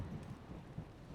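Rain and thunder from the video game Bloodstained: Ritual of the Night, a low rumbling wash with a steady rain hiss, brief and fairly faint with no voices.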